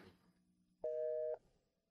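A phone line gives a busy signal: one steady, clean electronic tone of about half a second, heard alone in a quiet indoor scene from a drama.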